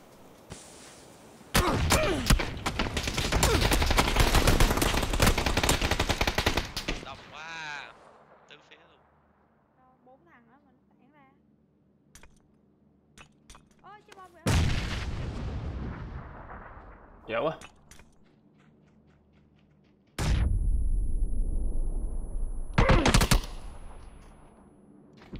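Gunfire rattles through a video game shootout in loud, dense automatic bursts separated by quieter gaps, with a player talking now and then in between.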